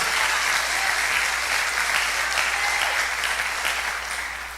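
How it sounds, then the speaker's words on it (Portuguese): Steady, dense applause from a large church congregation fills the space without pause, fading slightly toward the end. "Você pode aplaudir o Senhor Jesus, dar um glória a Deus"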